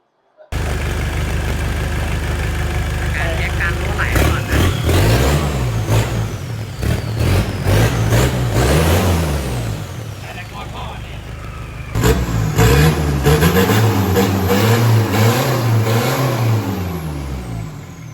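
A Mitsubishi 4M40 2.8 diesel in a Strada pickup, newly fitted with a turbo kit and muffler, revs repeatedly from idle, rising and falling in loud close bursts, with people talking over it.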